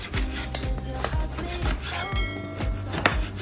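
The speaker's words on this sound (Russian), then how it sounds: "Углом нарежем багет." A knife slices a baguette at an angle on a board in a home kitchen, with a steady series of close, crunchy sawing and chopping strokes.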